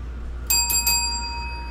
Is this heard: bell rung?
yes